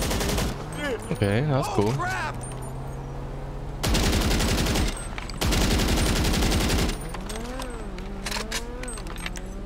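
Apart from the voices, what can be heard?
gun sound effect in the Grand Theft Auto Online video game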